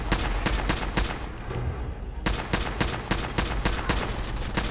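Rapid, loud gunshots in Fallout 4 come in dense bursts. They pause briefly near the two-second mark and then resume as a steady rattle of repeated shots, with no talk.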